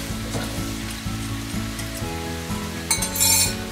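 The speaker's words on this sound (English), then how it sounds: "let's add the sauce" Shrimp and broccoli frying in a pan with sauce going in, giving a steady sizzle under rhythmic stirring and light utensil clinks, with a bright burst of hissing near the end.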